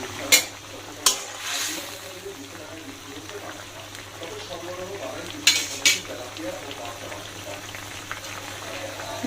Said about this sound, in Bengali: এখন মাছগুলা দিয়ে দিই